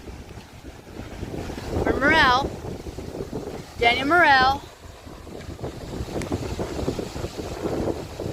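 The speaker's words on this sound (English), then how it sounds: "it's a little bit windy today by the water" Steady wind buffets the microphone beside a lake shore at a lighthouse museum, a rushing roar under the whole stretch with a voice speaking briefly over it twice.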